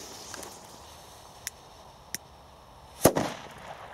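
A couple of light ticks, then one loud Pyroart China Böller C black-powder firecracker bang with a brief rumbling echo, somewhat muffled, in an otherwise quiet outdoor setting.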